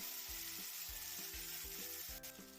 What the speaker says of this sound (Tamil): இப்போ இந்த டைமில் சுண்டக்காவை சேர்த்துக்கோங்க. சுண்டக்காவும் வதங்கட்டும்.